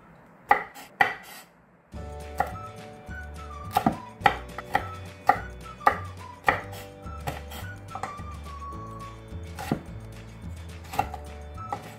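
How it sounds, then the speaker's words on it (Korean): A knife chops red chili pepper on a cutting board in irregular sharp taps, close and clear, with faint kitchen clatter between strokes. "그냥 갈기 수월하게 이렇게 썰어 주시면 돼요."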